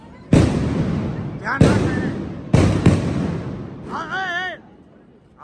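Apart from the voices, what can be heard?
Diwali firecrackers bursting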